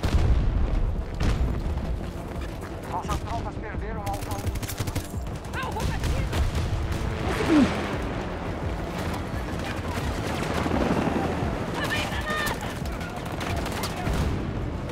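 Bomb explosions and heavy gunfire in the video game Battlefield 2042 form a dense, loud barrage of booms and rattling shots that continues for about fifteen seconds, with a voice talking over it.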